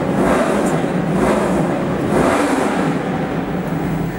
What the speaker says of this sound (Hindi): आपने बाइक की आवाज सुनी होगी पीछे से आ रही थी